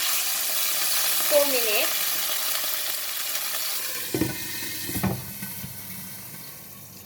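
Chicken frying in a pan for an orange salad, a steady close hiss and sizzle with a few scraping clatters as the pieces are turned, and someone briefly talking over it.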